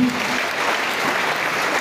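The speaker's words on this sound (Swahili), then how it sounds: "Appreciate them kwa makofi." Steady applause from an audience at a poetry event, a continuous wash of clapping hands filling the moment, even and fairly loud without breaks.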